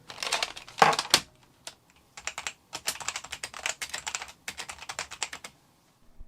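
Keystrokes on a mechanical keyboard built from three acrylic layers, fitted with tactile 63-gram switches that bottom out, come in quick uneven bursts of sharp clacks with short pauses between them, close and clear with no voices.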